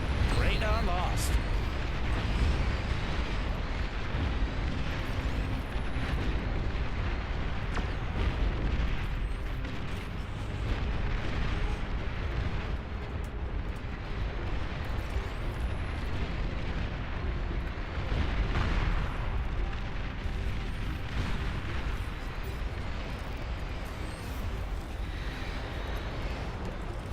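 Dense, continuous rumble of artillery fire and explosions in a large real-time strategy battle in Beyond All Reason, booming steadily for the whole stretch with someone talking over it.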